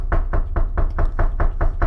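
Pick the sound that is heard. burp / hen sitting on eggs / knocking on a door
knocking on a door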